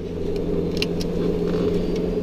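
A 430-horsepower SW20 Toyota MR2 pulls off on a drive, its engine a steady low droning rumble heard from inside the car, with faint clicks and rattles over it.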